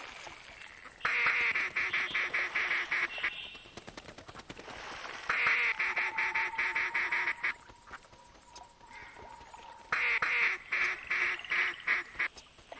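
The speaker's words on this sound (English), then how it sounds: "More ducks, more ducks, more ducks." Repeated bursts of rapid quacking from mallard ducks in the video game TheHunter, electronic and game-like, with sharp clicks and shots scattered through and a steady high whine.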